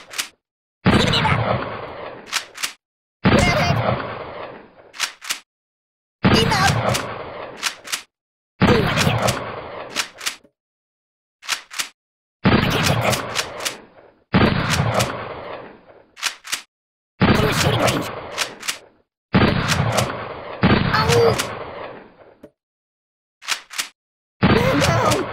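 Firearm shots in the Kick The Buddy mobile game, fired in repeated bursts of loud cracks separated by short silences, with a few isolated single shots between volleys.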